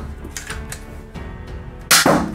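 A Nerf Doublestrike blaster modified internally into a Destiny 2 Thorn hand cannon prop, with a few clicks of priming followed by one sharp, loud, close pop of firing at the end.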